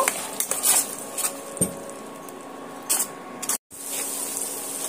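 Spices, onion, tomato, ginger and garlic with Kashmiri red chilli powder stirred and fried in a kadai for fish curry, a spoon scraping and clinking against the metal pan over a low steady sizzle, near and moderately loud.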